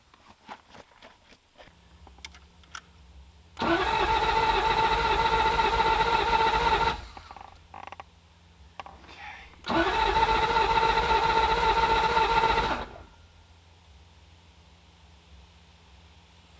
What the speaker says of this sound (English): I'm going to go ahead and hook up the fuel pump and see if it'll start